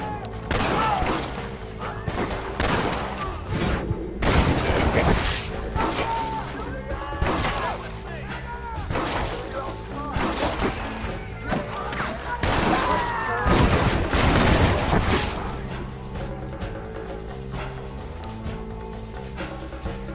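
A Red Dead Redemption gunfight against several enemies, with dense, overlapping gunshots and crashing impacts, loud and continuous at first and thinning toward the end.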